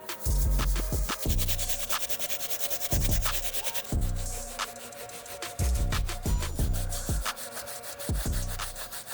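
A brass bristle brush scrubs the outsoles of 2018 Air Jordan 3 Pure Money sneakers in quick, rhythmic back-and-forth strokes. The close, gritty scratching comes in repeated bursts with short pauses between them.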